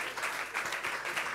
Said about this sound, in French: On les avait sur scène, on peut les applaudir tous les deux.